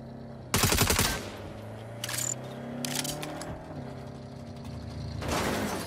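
Close, loud automatic gunfire in Saints Row (2022), with a sharp rapid burst, a pause filled by vehicle and mechanical sounds, shorter bursts, and a final volley.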